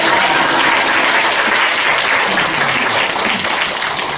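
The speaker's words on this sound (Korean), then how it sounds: "우리 두 분 일어나시면 축하합니다 하고 한번 박수로 보내세요" Full, steady applause from a large audience at a Korean Methodist bishop's inauguration ceremony, congratulating two people. It is dense and loud throughout, with no gaps and no speech.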